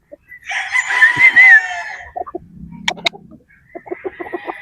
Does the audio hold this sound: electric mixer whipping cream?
no